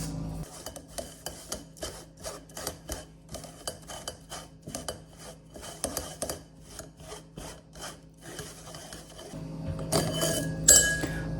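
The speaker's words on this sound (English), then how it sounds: "you're just going to work all those little hairs through the sieve and sieve out the seed" A hand rubs sumac berries through a sieve: a close, rhythmic series of soft scraping, rasping strokes at a fairly quiet level, ending in a louder, denser patch of rubbing and scraping.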